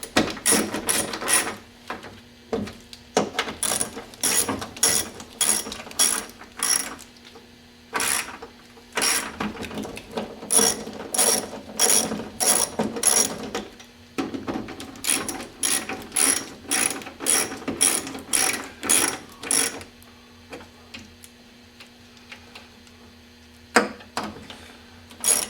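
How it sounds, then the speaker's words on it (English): A ratchet tightening nuts on the window regulator of a Mercedes 300D W123, giving rapid, close clicking bursts in repeated runs with brief pauses, then going quiet near the end before a couple of final clicks. "Now I've got another nut to put in here, so you can tighten these up."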